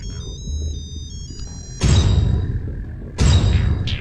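A mobile phone ringtone plays a short bright electronic melody for under two seconds, then heavy thumping impacts from a fight scene take over.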